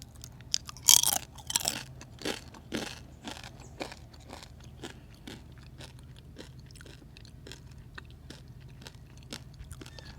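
Crunchy taro and sweet potato snack chips are bitten and chewed close up in a steady series of sharp crisp crunches, loudest near the start and then settling into rhythmic chewing.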